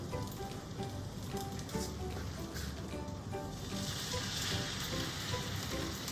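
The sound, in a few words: French toast frying in butter in a pan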